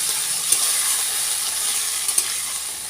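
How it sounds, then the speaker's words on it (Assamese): Potato and ridge gourd pieces fry with onion in a pan, a loud continuous sizzle with a couple of brief spatula scrapes and taps, close by with no voices. "এতিয়া আলু আৰু জিকাখিনি ভালদৰে ভাজি ল'ম।"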